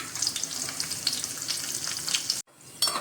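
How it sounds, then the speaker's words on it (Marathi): Mustard seeds, cumin and a cut green chilli sizzle and crackle in a spoonful of hot oil, a close, steady frying hiss with small pops that cuts off briefly near the end before resuming. "त्याच्यामध्ये आपण आता टाकूया मोहरी, थोडेसे जिरे आणि 1 हिरवी मिरची मी कापून घेतलेली आहे"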